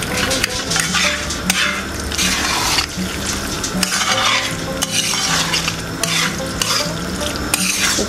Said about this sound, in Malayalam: ഗരം മസാലയും കൂടി ചേർക്കുന്നുണ്ട്, ഒരു 3/4 ടീസ്പൂൺ കൂടെ നന്നായിട്ടൊന്ന് ഇളക്കിയിട്ട്